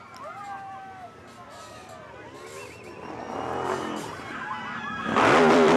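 Off-road motorcycles, among them a Yamaha, race past at an enduro event, engines rising from distant whines to a loud near roar at the end, while a commentator talks over them.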